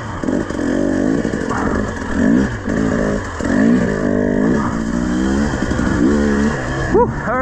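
A hard enduro dirt bike on a single-track training lap rips through a crawl section, the engine revving and blipping loudly and close in repeated surges, with a brief clatter near the end.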